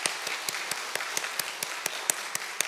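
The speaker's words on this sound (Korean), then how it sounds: "자, 우리 박수 한번 하죠." A church congregation at a Sunday worship service claps in slow, steady unison, a crisp beat roughly every quarter second over a soft background hum.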